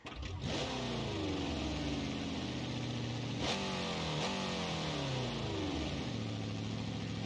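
A loud monster truck engine from the BeamNG.drive video game revs repeatedly, pitch sweeping up and down through several gear-like climbs, with a sharp roar spike midway; steady, close, no talking.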